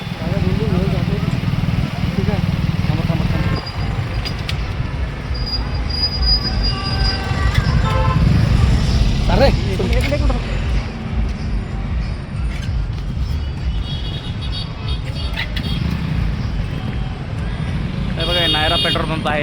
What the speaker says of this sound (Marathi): त्या ठिकाणी एवढी गर्दी आहे की अक्षरशः रस्ता पूर्ण ब्लॉक केलेला आहे